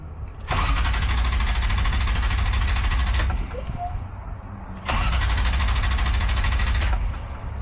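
An engine cranks and roars loudly for a few seconds, drops to a lower idle-like rumble, then revs up loudly again before easing off.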